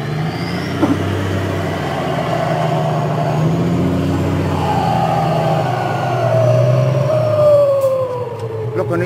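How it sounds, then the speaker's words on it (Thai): A decorated, modified earth-fill dump truck gives a strange reversing sound: a steady wailing, howl-like tone that rises and falls over a constant engine rumble, close and loud for the whole stretch. "รถคันนี้เสียงถอยประหลาด"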